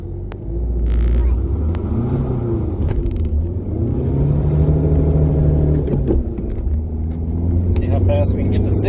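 A VW Jetta towing a load accelerates hard toward 60 on a closed course, its engine rumbling steadily loud from inside the cabin and the pitch climbing through gear changes, while people talk over it.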